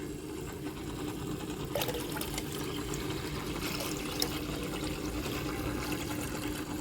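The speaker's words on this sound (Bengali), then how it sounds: "মাছগুলো আস্তে আস্তে করে পানিতে ঢালবো।" Fish and water are poured slowly from a container into a home aquarium. A soft, continuous trickling stream runs throughout, quiet and close, with a few small splashes and no talking.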